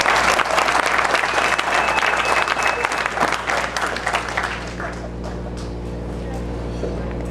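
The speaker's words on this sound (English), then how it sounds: "we have a round of applause for Denise for the work that she's doing" A crowd claps loudly and steadily, the applause thinning and fading out over the last couple of seconds into a low room hum.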